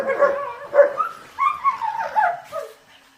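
Several dogs bark, yip and whimper in short, uneven bursts close by indoors, with brief pauses between the outbursts and no talking.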